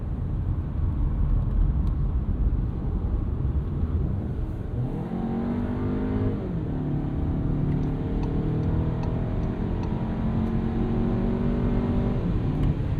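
A 2024 VW Tiguan S with a 2-liter engine and 8-speed transmission in sport mode, accelerating hard on a rainy road, its engine note rising through the gears over steady road and cabin noise.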